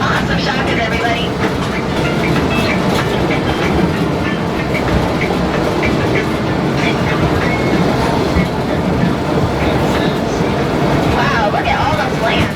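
A Hawaiian Railway train rolls along its tracks, with a continuous loud rumble, wheel clatter and rattling carriages heard up close from on board, while people talk over the running noise.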